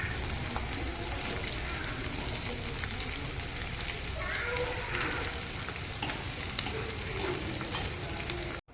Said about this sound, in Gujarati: જો આપણે ગુંદર ને એવું તળ નાખ્યું છે